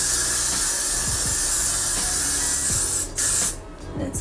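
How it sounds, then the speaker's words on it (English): Glue spray misted onto hair in short hissing bursts, a close aerosol hiss running steadily and then cutting out briefly near the end before one last spurt. "So now I'm gonna take my glue spray"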